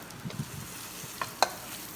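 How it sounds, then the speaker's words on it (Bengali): Tempered beef stirred into kala bhuna in a pan, a few soft scrapes and light knocks of a spoon over a faint sizzle, quiet and close with no voices. "এবার বাগার দেওয়া মাংস কালাভুনার সাথে মিশিয়ে দিতে হবে"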